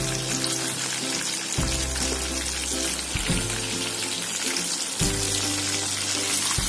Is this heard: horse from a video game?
no